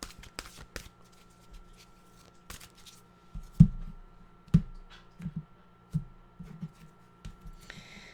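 Well-being cards from an Esther and Jerry Hicks deck are shuffled and drawn for a tarot-style reading: soft, sparse card flicks and slaps in a quiet room, a few sharper snaps near the middle, with no voices.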